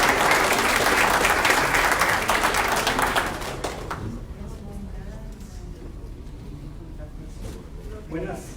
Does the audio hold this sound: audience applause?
yes